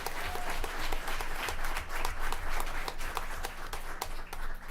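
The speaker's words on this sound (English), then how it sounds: "So please give them a round of applause" Sustained applause from an audience at a borough council special meeting honoring a youth mayor and council, many hands clapping steadily at moderate distance, swelling and easing in waves with no talk over it.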